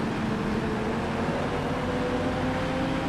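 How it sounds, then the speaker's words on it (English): A race car engine in Project CARS 2 during an IMSA GTD multiclass race drones loud and steady, a continuous broadband roar with a sustained tonal hum and no break over the few seconds. "As I rev the engine up quite a bit"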